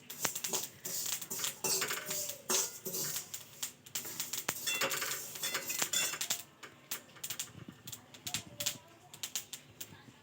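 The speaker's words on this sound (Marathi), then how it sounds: "तर इथं हे आपली तीळ भाजून झाली आहे. आता आपण याला प्लेटमध्ये काढून घेऊ." Toasted sesame seeds scraped from a pan onto a plate during tilgul ladoo preparation make a busy run of close, dry scraping, clinking and rattling, with short bursts and pauses throughout.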